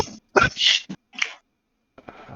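A single sharp sneeze bursts out close by, followed by a short breathy sound and a faint trailing noise.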